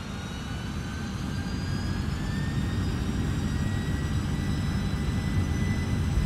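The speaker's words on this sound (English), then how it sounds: "we're taking a full power takeoff" Jet engines of an MD-11 airliner roar steadily at full takeoff power in a flight simulator game, a dense broadband rumble with rising turbine whines that holds loud and constant throughout.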